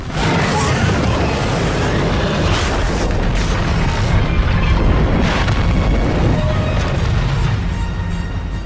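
A huge explosion from an alien invasion film, with a White House area being destroyed, roars loud and sustained for the whole stretch, a dense rumbling blast with crashing debris and no voices.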